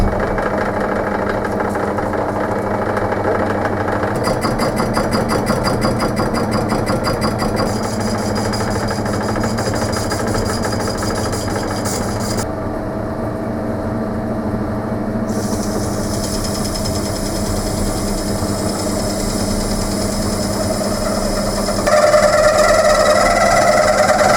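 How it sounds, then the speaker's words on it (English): Metal lathe with a motor-to-countershaft belt drive runs steadily, giving a continuous mechanical hum and whir with faint rhythmic belt slap, close and unchanging until a brief shift near the end. "I've just put a smaller belt on the pulleys going from the motor to the counter shaft, so hopefully it'll run a bit better."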